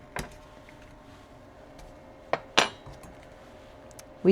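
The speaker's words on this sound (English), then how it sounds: "now we're going to cut the potatoes in half" A knife cuts through cooled baked potatoes on a kitchen surface, giving a few sharp clinks and taps spaced apart, close and fairly clear over a quiet background.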